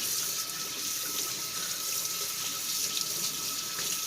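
Tap water pouring steadily over a budget red dot sight, a constant close hiss and splash with no breaks and no voices.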